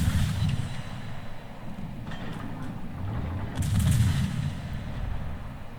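Warship main guns firing in World of Warships, a torpedo-boat match with the Cossack: heavy, muffled booming rumbles blend into a dense low roar, with a louder swell of fire toward the end.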